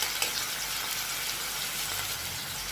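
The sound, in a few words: sautéing peas, onion, tomato and garlic in a pan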